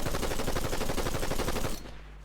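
Rapid automatic bursts from an assault rifle in the Fortnite video game, a dense steady rattle of shots lasting nearly two seconds before cutting off abruptly into quiet.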